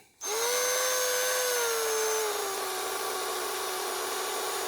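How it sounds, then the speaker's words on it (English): A power driver slowly sets screws into a handmade Hudson Bay camp knife handle during glue-up. A steady motor whine starts abruptly, holds, then drops lower in pitch as the screw bites, continuing alone without talk. "try to screw these in real slow, because again, we don't want them to strip out"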